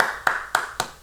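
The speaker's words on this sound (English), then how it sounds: "That's me clapping." Four single hand claps ring out at a slow, even pace, each one sharp and close, with no voices between them.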